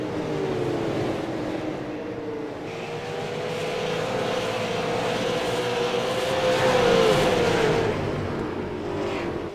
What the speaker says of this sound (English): snuck up and swung around the outside on Tim Bills, and now pulls away to look over a half a second lead.